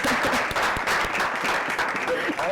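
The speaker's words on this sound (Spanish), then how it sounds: "Pero voy a aplaudir otra vez." Audience applause following a talk at a lecture series, a dense continuous patter of clapping that stays loud throughout, with some voices and cheers mixed into the crowd noise.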